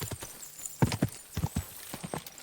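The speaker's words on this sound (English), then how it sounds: "I'm literally on a horse." Horse hooves clip-clop at a steady walking rhythm in the medieval role-playing game Kingdom Come: Deliverance 2, a run of soft, close thuds with no talking.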